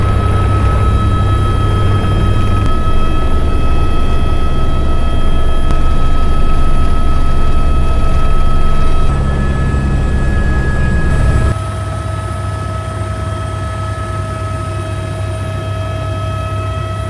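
Helicopter ride over Kauai: a steady, loud cabin drone of rotor and engine with a strong low hum and constant tonal whine, shifting pitch and level partway through, continuous with no talk.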